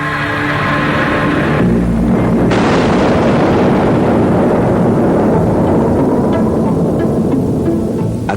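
An atomic bomb explosion effect: a loud deep boom that swells into a long rumbling roar lasting several seconds, heavy and continuous with crackling texture, no voices.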